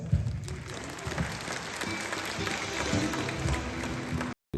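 Concert audience in Elista claps along to a song, a dense continuous wash of applause from a crowd, moderately loud, cutting off abruptly near the end.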